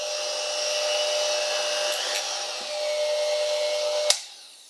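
A spindle motor running at high RPM holds a steady, loud high-pitched whine with fixed tonal hum, then cuts off abruptly near the end and winds down quickly to silence.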